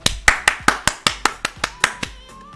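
Hands clap about ten times at a steady, slightly quickening pace, each sharp slap close and loud, with no talk over them.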